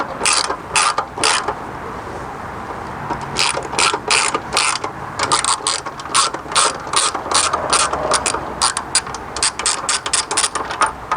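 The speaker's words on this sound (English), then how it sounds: "You're just going to be screwing off either one of these you want to start with" A ratchet wrench clicks in quick bursts while backing out the bolts holding a fender on a motorcycle, loud and close, with several pauses between runs of rapid ratcheting.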